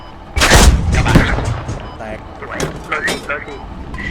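Tank cannon fire in the video game Squad, a loud booming shot early on followed by rumbling battlefield noise, with players talking over it.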